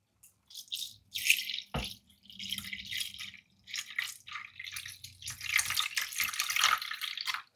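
Water splashes and trickles in irregular bursts as it is poured into a yogurt-making machine, with a brief knock partway through, close and fairly quiet.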